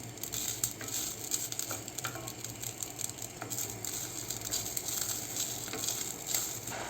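Butter added to a hot pan while cooking pilaf, a faint, steady sizzle with small crackles and pops, continuous and close.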